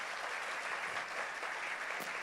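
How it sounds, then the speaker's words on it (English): Audience applause for the PRC team at an induction and orientation programme, a dense steady wash of clapping that holds evenly for the whole stretch at moderate level with no talk over it. "Can I have a round of applause for PRC team?"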